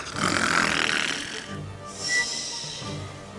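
Children make exaggerated snoring noises, a couple of drawn-out rasping snores close by, imitating someone fast asleep.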